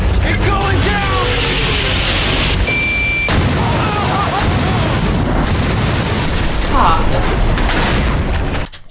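A Lamborghini blown apart at a shredder stunt: a loud, dense roar of blasts and crashing debris fills the whole stretch, with excited voices mixed in before it cuts off near the end.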